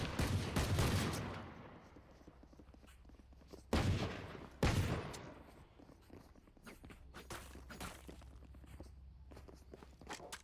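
Valorant gunfire rattles in several loud bursts over a background of game sounds and footsteps, with quieter activity between the volleys.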